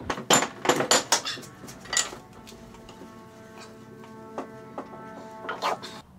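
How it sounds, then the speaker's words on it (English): A Dodge stub axle shaft is clamped into a metal vise. A quick flurry of metallic clanks and clinks opens, then a sustained ringing hum follows, broken by a few lighter taps. "first we're just going to get this securely mounted in the vise"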